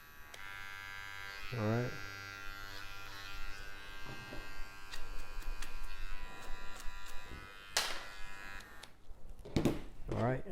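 A small two-speed electric tool buzzes steadily while removing stitches from a hat, a faint hum beneath a voice speaking close by.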